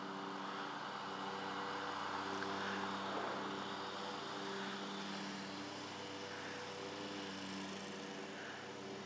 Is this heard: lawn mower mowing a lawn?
yes